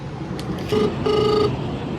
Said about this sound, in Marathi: ह्याच्यावर पण रिंग होतं तरी उचलत नाहीये